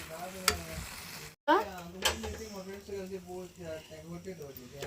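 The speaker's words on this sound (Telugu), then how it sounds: "కొత్తిమీర వేసేసుకొని కలిపేసుకున్నాం" Maggi noodles stirred in a pan after coriander goes in, the stove already off: scraping, rustling stirring strokes with faint sizzle, a short gap partway, and a voice talking over much of it.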